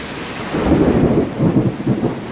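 Close thunder from a severe thunderstorm in Newburg, Pennsylvania rumbles loudly in two rolling surges over steady rain, with no speech.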